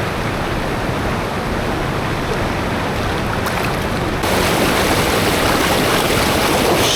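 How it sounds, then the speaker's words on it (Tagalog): Strong, loud rushing water at a local waterfall, a dense steady roar that swells louder partway through and continues without any talk. "Oh shit! Ang lakas ng alon guys."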